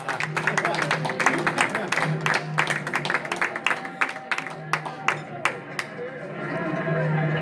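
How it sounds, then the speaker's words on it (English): A large outdoor crowd at a presidential inauguration cheers and claps steadily, a dense wash of applause with sharp individual claps standing out, loud and sustained, with a voice mixed in. "Cheers and applause."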